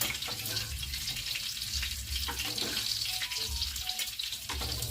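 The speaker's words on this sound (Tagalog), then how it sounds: "Nagmamantika po kasi mga kaibigan ang ating taba ng pork." Pork fat frying in oil for a Filipino pinakbet vegetable dish, a steady broadband sizzle with watery crackle running continuously, close and moderately loud with no talking.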